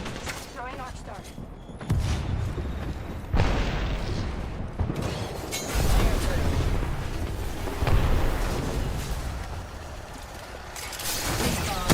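Arc Star grenade detonating in a fast-paced shooter game, a few loud electric bursts and booms in a dense mix of gunfire and effects, with a voice talking over it.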